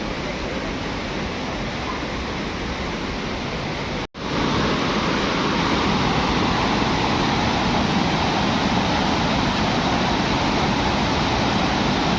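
A waterfall beside the Dhutpapeshwar temple in Rajapur, Ratnagiri roars loudly and continuously, a dense rushing wash of water with a brief dropout partway through.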